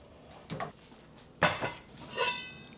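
A pot of Korean taro soup finished with green onion is lifted off the stove, giving a few close clanks of metal and a sharp knock partway through, with quieter clinks and a scrape after it and no voices.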